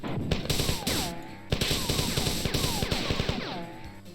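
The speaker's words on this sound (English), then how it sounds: "all the compiler's bullets are chasing me, so I need to keep moving" Rapid gunfire and projectile bursts crackle in the Marathon video game as an enemy compiler's bullets fly, with repeated sharp shots and whooshing energy sweeps at moderate volume.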